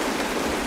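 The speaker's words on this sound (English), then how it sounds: "The rain! It's raining!" Steady hiss of rain pouring down in the video game Honkai Star Rail, a dense even wash of falling water with no voices, alone for under a second.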